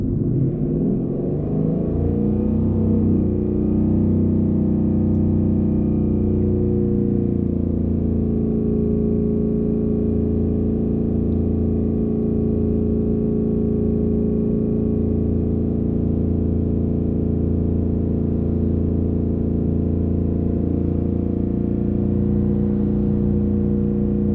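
Steady idle-to-held engine drone of a 2019 Ford Mustang GT with a Lund tune, revved up in the first few seconds and then held constant at 3500 rpm, a loud, even rumble with no talking.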